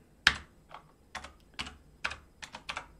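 A few quiet, scattered keystrokes tap on a computer keyboard, irregular and close, with short pauses between small bursts of typing.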